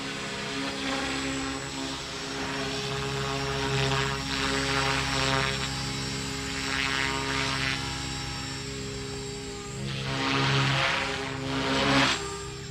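An Align T-Rex 300X radio-controlled helicopter flies nearby, its small rotor and motor making a steady high-pitched whine that swells and fades as it maneuvers close to the ground, with no voices.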